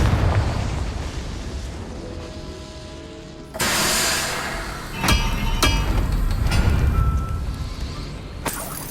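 Confringo blasting spell explosions in the video game Hogwarts Legacy, a series of sharp booming blasts and bursts over rumbling low combat noise.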